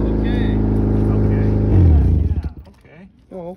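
Roofless Honda Civic engine running loud and close, holding a steady rumbling idle before a brief rev swell around the two-second mark, then dropping away as voices talk over it.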